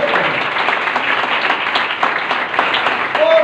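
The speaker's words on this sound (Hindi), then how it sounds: "तालियां बजाने से सही तरह बजाओ खुदावन के" A church congregation claps together during a worship service, a loud, fairly even stream of many hands with slight rhythmic pulses throughout, no voices standing out above it.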